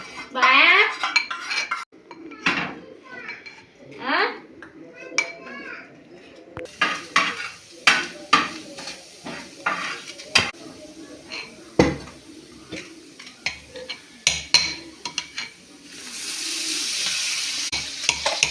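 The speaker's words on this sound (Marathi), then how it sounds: "पीठ आणि बटाटे आपण बारीक केलेले त्या अंड्यामध्ये टाकायचे हे अजून बारीक करून घ्यायचं आहे आपल्याला" Potatoes and flour mashed into eggs in a bowl in a home kitchen, heard as repeated clinks and scrapes of a utensil against the bowl in irregular bursts, fairly close, with some background noise and no speech.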